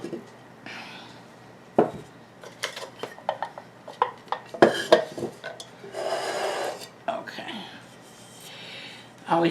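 A plant pot is handled and readied for a Curly Lipstick plant, with repeated knocks, scrapes and rubbing sounds coming close by in irregular bursts while someone talks over them.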